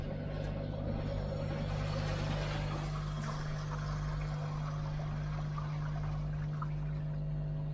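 Water gushing steadily from an opened valve at the bottom of an up-flow filter tank, a continuous loud rushing pour with a constant low hum underneath, no voices.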